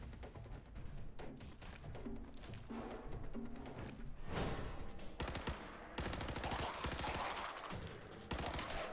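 Rapid .38 caliber submachine gun fire in Fallout 4, dense rattling bursts of shots repeating throughout, loud and close with thuds and impacts between volleys.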